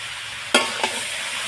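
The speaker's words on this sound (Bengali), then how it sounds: "চিনিটা দিয়ে আরও একটু এইভাবে নেড়ে চেড়ে নিচ্ছি" Fried potatoes and a spoonful of sugar are stirred into a vegetarian cabbage curry in a pan, with two quick scraping strokes of the spoon close up over a soft, steady sizzle.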